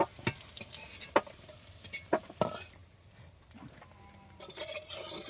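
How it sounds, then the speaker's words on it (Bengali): Country chicken pieces stirred and fried in a kadai over a village clay stove with ground spices: repeated scraping stir strokes over a steady close sizzle, easing to a quieter hiss before the sizzling swells again. "দেখো আমি মাংস রান্না করছি"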